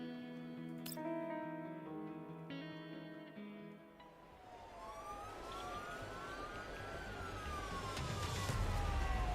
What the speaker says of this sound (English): all you hear is just sirens everywhere